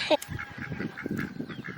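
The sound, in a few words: upset duck quacking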